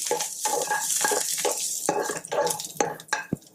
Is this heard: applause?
no